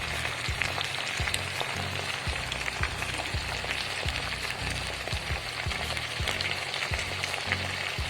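Prawns frying with spice paste in a pan give a soft, steady sizzle, with faint repeated taps and scrapes of stirring at a quiet, close level.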